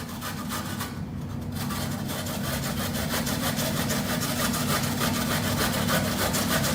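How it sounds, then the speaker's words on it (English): Ginger grated on the fine side of a metal box grater: a steady rapid back-and-forth rasping scrape that runs for several seconds at a moderate, even level. "just use this fine side of a box grater"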